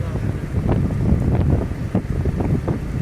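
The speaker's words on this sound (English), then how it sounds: "the wind's blowing this way." Strong gusty wind buffeting the microphone outdoors as an electrical storm approaches, a loud continuous low roar with rumbling surges throughout.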